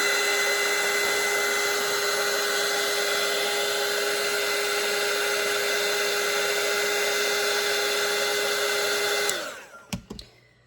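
A hair dryer blows on a watercolour painting, a steady loud whine with a constant pitch that runs for about nine seconds, then clicks off and winds down, followed by a few faint handling knocks.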